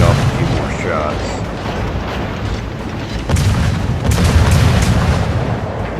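Warship guns boom repeatedly in a naval battle video game featuring the destroyer USS Kidd, loud and continuous, with heavy rumbling blasts layered over a dense roar of battle.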